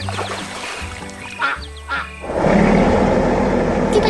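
Cartoon geese swimming on a lake give a few bright quacks and honks, followed by a steady rush of water-like noise that fills the rest of the moment.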